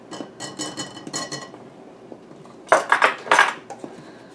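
Flour and baking powder being stirred together in a bowl for witch finger cookies, a run of quick clinking, scraping strokes of utensil against dish, then a short pause before a louder burst of mixing.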